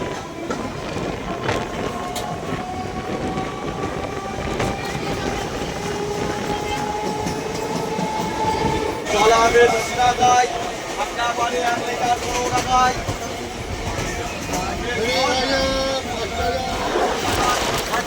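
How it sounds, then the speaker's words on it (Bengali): Train pulling away from Sirajnagar station in West Bengal, a steady broadband rumble of rolling carriages with rhythmic clatter building midway, heard from on board under faint background voices. "এখন ট্রেন সিরাজনগর স্টেশন থেকে ছেড়ে চলে যাচ্ছে"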